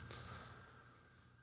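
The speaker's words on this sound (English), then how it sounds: "The loud crickets." Crickets chirp in a steady, high-pitched drone against a faint background hum, continuous and moderately loud.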